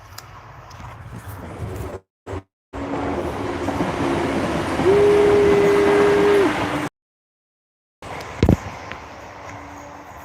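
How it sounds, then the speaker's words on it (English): A train rumbles past outdoors during an ash-chopping session, a steady, loud, close roar with a brief droning tone partway through, then cutting out and leaving faint background noise. "train."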